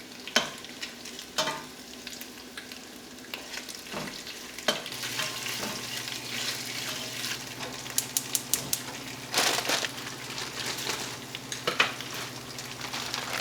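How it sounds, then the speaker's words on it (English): Meat frying in a pan for an Asian dinner, a steady close sizzle broken by repeated scraping and clacking stirs of a utensil, with no one speaking. "cooking the meat"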